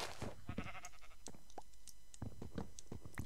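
Sheep bleating in the video game Minecraft, several short bleats scattered across a steady background, fairly near and moderately loud, with no talking.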